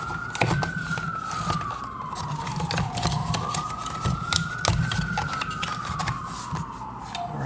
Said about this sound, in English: we got a little bit of an emergency vehicle going on in the corner in the background